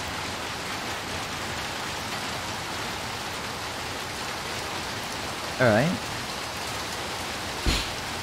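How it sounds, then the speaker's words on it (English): Steady rain from the video game Little Nightmares 2 hisses evenly throughout, with a brief spoken word and a short sharp knock breaking through the constant downpour. "It's raining now."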